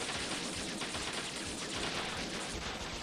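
Video game gunfire rattles out in dense, rapid bursts, a continuous barrage of shots at moderate loudness with no pause.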